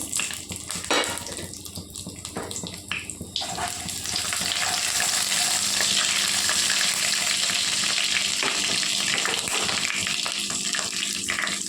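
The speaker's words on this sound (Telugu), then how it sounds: "ముందు ఆయిల్ పెట్టుకున్నానండి స్టవ్ మీద. తర్వాత ఆవాలు, జీలకర్ర, పొట్టు మినపప్పు వేస్తున్నానండి" Mustard seeds, cumin and split urad dal frying in oil on a stove for tempering, a close crackling sizzle that swells into a loud, continuous hiss after a few seconds.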